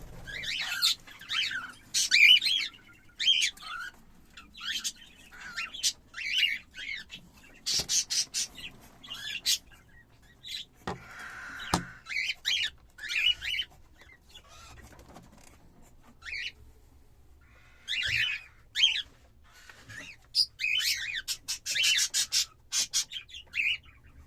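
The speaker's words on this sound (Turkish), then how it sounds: "5 tane sultan yavrumuz mevcut." Five cockatiel chicks at a breeding setup in Istanbul chirp close by in repeated bursts of high, rasping calls, with short pauses between the bursts and one brief louder squawk midway.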